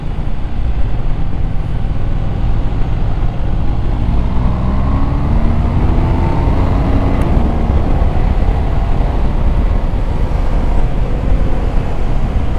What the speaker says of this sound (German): Fetter LKW.